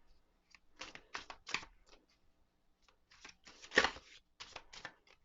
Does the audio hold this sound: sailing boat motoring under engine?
no